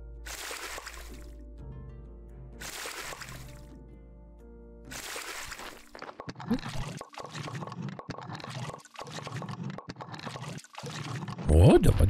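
Water is fetched and poured in the Graveyard Keeper video game, a steady splashing trickle under game music, with a person talking in German over it.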